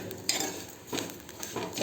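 A utensil clinks and scrapes against a pan as vermicelli (semiya) is roasted, sounding as a few distinct close taps and short scrapes over a low background.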